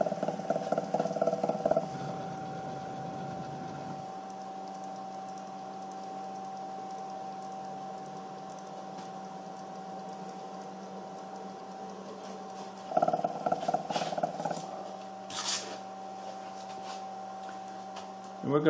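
An engraving machine lowers its cutter toward a beer bottle surface, a steady motor whine and hum droning at a constant pitch, with short louder bursts of movement near the start and end.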